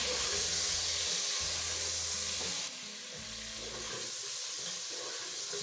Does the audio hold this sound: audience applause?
no